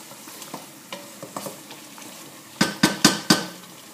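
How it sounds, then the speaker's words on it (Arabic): Meat frying with onion in a pan, a soft steady sizzle at close range broken by light stirring taps, then four louder scraping strokes of a utensil near the end. "قلى اللحم مع البصل كما تشوفوا"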